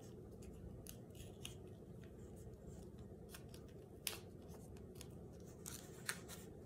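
Scissors snip through a sheet of duck tape while a leaf shape is cut out, giving a quiet, steady crinkling rasp with a few sharper clicks of the blades closing, close up and with no talking.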